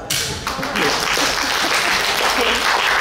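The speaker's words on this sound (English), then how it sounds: "Clap already, now, yeah." An audience at a property training seminar breaks into loud, sustained clapping that starts abruptly and holds steady, with voices faintly mixed underneath.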